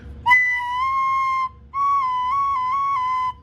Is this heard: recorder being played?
yes